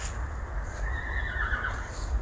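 A horse calling out with a drawn-out, wavering whinny at moderate distance over outdoor background noise.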